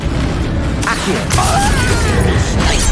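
An Accio pulling spell cast mid-combat in Hogwarts Legacy, a short loud whooshing burst with mechanical clanks and swirling effects over a dense battle din.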